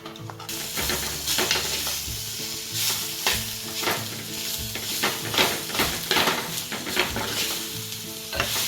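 Fish tipped into a pan of sautéed spices and frying with a steady loud sizzle, broken by repeated scraping and stirring strokes of a utensil against the pan, with no voices.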